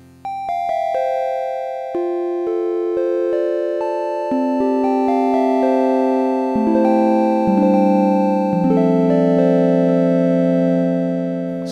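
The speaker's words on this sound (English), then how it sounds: "Triangle wave." A clean triangle-wave tone from a Waldorf Q digital synthesizer plays a sequence of stepped notes, smooth and mellow with soft overtones, steady in level without any voices.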